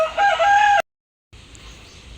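A Rhode Island rooster crows once, loud and close, with a bright harmonic call lasting under a second. A short silence follows, then quieter outdoor farmyard background.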